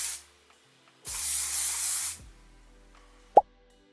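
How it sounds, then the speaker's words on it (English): Maria Nella styling hairspray is sprayed once in a single steady hiss of about a second, close and loud, followed by quiet and a small sharp click. "So I'm going to go in again with the Maria Nella styling spray."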